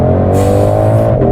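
A 2020 Ford Mustang Shelby GT500 Super Snake with a cross-plane crank V8 sends out a loud, close, sustained engine drone held at high revs, with no voices present.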